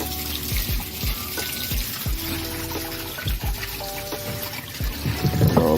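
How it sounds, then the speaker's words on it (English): Water gushes steadily out of a freshly opened valve on a pond fed from a tank, with a continuous splashing wash broken by repeated low, dull thumps and gurgles. "I'm just gonna open up this valve right here."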